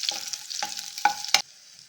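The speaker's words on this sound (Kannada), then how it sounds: "ಈಗ ನಾನು ಬೆಳ್ಳುಳ್ಳಿ ಫ್ರೈ ಮಾಡ್ಕೊಳ್ತಾ ಇದ್ದೀನಿ." Garlic being stirred and fried in a spoonful or two of hot oil. Four quick, distinct scraping bursts come close up, spaced roughly a quarter-second apart, then the pan settles into a quiet, thin sizzle.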